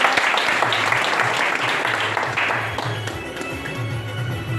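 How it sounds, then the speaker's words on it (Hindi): An audience at a big seminar in Doha, Qatar, claps in a strong, continuous round of applause that thins toward the end, with a low voice or hum beneath. "एक बार सबके लिए जोरदार ताली।"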